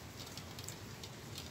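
Heavy rain falling steadily during a thunderstorm in Porto Alegre, a continuous dense hiss of drops with low rumbling undertone, no voices.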